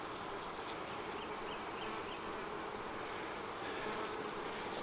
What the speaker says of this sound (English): there's a lot of bees in it